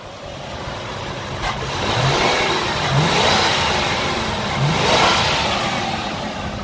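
A 2002 Ford F-150 XL extended cab pickup with a 4.6-liter V8 revs repeatedly, the engine rising and falling in three or four steady surges over a constant rumble, close and fairly loud with no talking.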